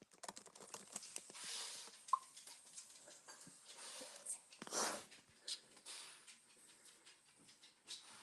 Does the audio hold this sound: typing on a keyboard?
yes